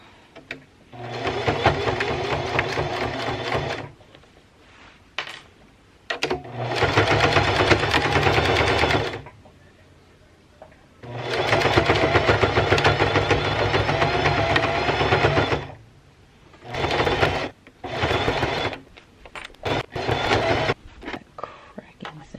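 A sewing machine pushes through several thick layers of a thrifted blanket in repeated loud, close bursts of rapid whirring stitching, separated by short pauses.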